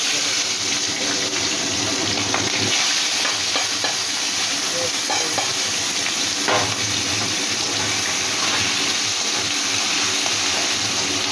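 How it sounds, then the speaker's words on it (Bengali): Ginger, chilli, tomato and onion fry in a pan with a constant close sizzle, broken by scattered stirring clatters and some watery splashing, with no voices. "আদা, লঙ্কা, টমেটো, পেঁয়াজ সব ভালো করে আমি ভেজে এই ভাজাটাকে তুলে"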